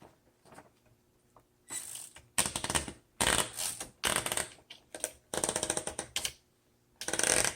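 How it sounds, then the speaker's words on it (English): Bursts of mechanical key strikes and clacks from a 1956 Olympia SM3 manual typewriter, arriving in irregular clusters with short pauses between, close and fairly loud. "let's load paper and go ahead and do our typing demo"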